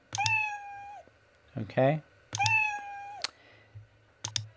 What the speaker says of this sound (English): even though the meow sound was playing